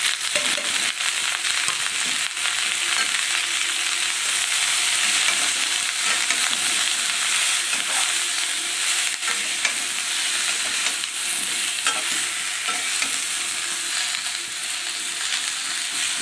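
Ridge gourd with green chili, salt and turmeric frying in a pan, a steady close sizzle with stirring scrapes running unbroken throughout, no talking.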